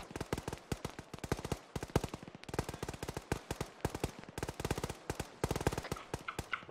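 Arma 3 gunfire crackles in rapid, dense bursts of rifle and machine-gun shots, sharp and fairly close, with brief gaps between volleys and no voices.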